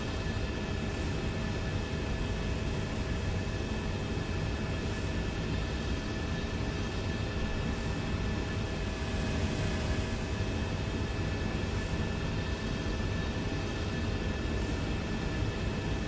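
A jet aircraft in War Thunder climbing steadily with the afterburner off, a constant loud engine roar and whine holding unchanged throughout without talk.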